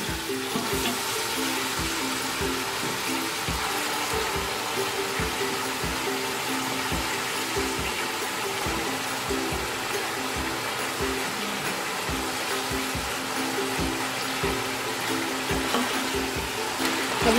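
Mutton pieces sizzling in hot ghee in a pot, a loud continuous frying hiss with crackles and pops running steadily throughout, no voices.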